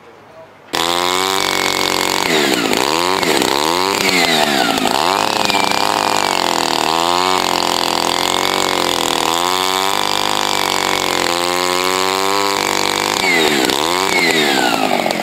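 A Partner C6 chainsaw cutting wood at an old-engine show in Vihtijärvi, loud and close, its engine pitch rising and falling repeatedly as it bogs into the cut and revs free, with talk faintly beneath.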